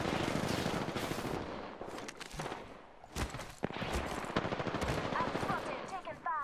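Rapid bursts of automatic gunfire in an Apex Legends ranked arenas match, dense volleys of shots crackling almost nonstop with a brief lull midway before the firing resumes at close range.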